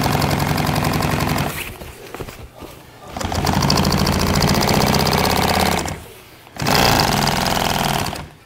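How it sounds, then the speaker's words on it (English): A sewing machine stitching down a folded curtain hem for a boat's aft curtain, running loud and close in steady buzzing runs broken by two brief pauses, with no talk. "All right, let's go to the machine and sew this down."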